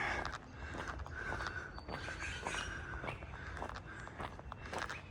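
Footsteps crunch steadily along an outdoor path through wetlands near the Murray River at Albury, a regular walking rhythm under a constant wash of ambient noise, with faint bird calls in the distance.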